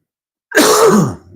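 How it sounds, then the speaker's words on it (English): A single rough, throaty cough or throat-clearing burst up close, rasping for under a second and trailing off into a faint rumble. "I might have to cough, and I don't have a cough button."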